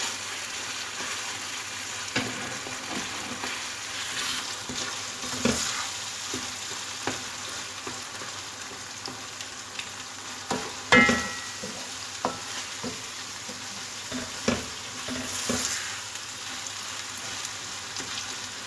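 Eggplant bharta masala stirred, pressed and fried in a pan, giving a steady soft sizzle with repeated scraping and tapping strokes of a spoon, one sharper clatter near the middle, close up with no talk.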